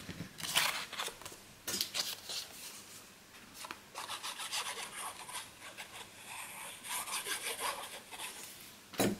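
Scissors or a blade cut through paper for a scrapbook photo album, giving a run of close, quiet scraping and snipping strokes in uneven bursts, with no talk.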